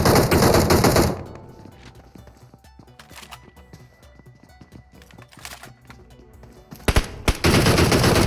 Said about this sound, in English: The Woo, though, taking shots at Dream Killers